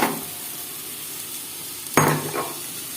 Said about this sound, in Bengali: এদিকে কড়াই গরম হয়ে গেছে শাকটা দিয়ে দেবো